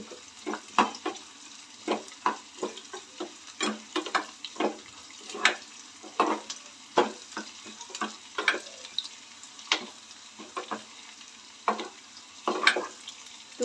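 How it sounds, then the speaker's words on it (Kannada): Onions frying for rasam in a pan, with a steady close sizzle broken by repeated sharp scrapes and clinks as a spoon stirs them, alone without talk. "ಈರುಳ್ಳಿ ಬ್ರೌನ್ ಕಲರ್ ಬರೋವರೆಗೂ ನಾವು ಈ ಥರ ಇದನ್ನು ಫ್ರೈ ಮಾಡ್ಕೋಬೇಕು"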